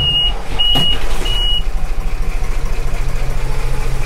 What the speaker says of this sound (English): we want to warm up the engine before we go out